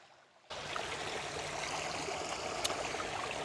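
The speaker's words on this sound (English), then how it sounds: "I like this little creek behind my house." A small creek behind a house, running after rain, makes a steady close rushing and trickling flow. It starts abruptly after a brief near-silent moment and then continues evenly, with no voices.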